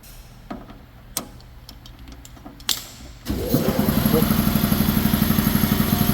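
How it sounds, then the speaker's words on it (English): Air compressor for a budget plasma cutter kicks on after a few scattered clicks and knocks, then runs loud and steady with a rapid, even chugging pulse. "Okay, the compressor stopped."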